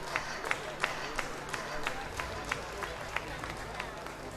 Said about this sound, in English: The crowd beginning to chant Luka